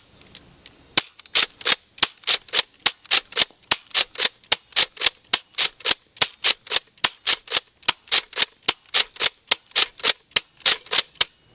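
A Death Dealer CS Infinity 4.0 toy foam blaster fires a long, steady string of sharp, loud, evenly spaced shots, about three per second, close up with no talking.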